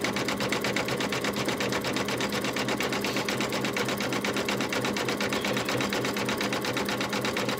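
A machine embroidering a honeybee coaster stitches in a fast, steady, unbroken rhythm, loud and close throughout with no talking.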